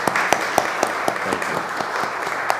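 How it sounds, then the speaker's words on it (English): Audience applause at a candidates' forum, a room of clapping with several sharp, distinct claps standing out close by over a steady wash of hands. "Can we please give them a round of applause?"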